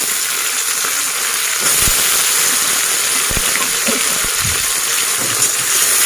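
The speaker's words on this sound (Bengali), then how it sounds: "বড় একটা পেঁয়াজ সেটা একটু ভেজে নিলাম আর এর মধ্যে একটা টমেটো দিলাম" Chopped onion and a tomato fry in a pan for a mung dal tadka with egg, giving a steady hiss with a few soft knocks and scrapes of stirring.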